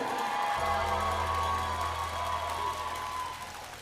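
An arena crowd at a basketball game cheers, whoops and applauds in a dense continuous roar that fades slightly toward the end, with a low hum under it.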